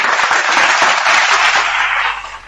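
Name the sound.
audience applause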